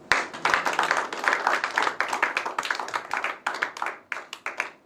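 A church congregation claps in rhythm during a Sunday worship service, a steady, fairly close run of sharp hand claps with a cheerful, acclaiming feel.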